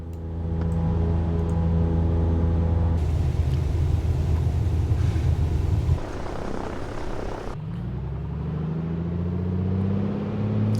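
Aircraft engine in the flight simulator Microsoft Flight Simulator 2024 drones loud and steady, shifting tone partway through as the power setting changes, then settling into a lower, rising hum.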